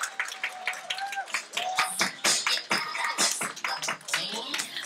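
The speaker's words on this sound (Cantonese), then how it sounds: "俾啲掌聲聽下先，聽有幾墟冚先" A small audience claps at an evening skincare product training meeting. Dense, close, lively clapping fills the room, with voices calling out over it.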